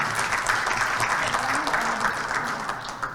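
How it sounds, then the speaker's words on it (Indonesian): An audience at a Hanura party regional assembly in Jakarta breaks into steady applause, a dense wash of clapping that carries on evenly for a few seconds and tapers slightly at the end. "Tepuk tangan saudaraku."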